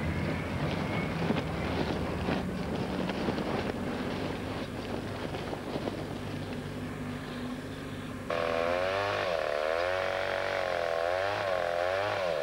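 A chainsaw runs steadily in a South American forest, a distant droning whine that shifts pitch partway through as the engine revs and labours, with wind noise over the microphone and no talk.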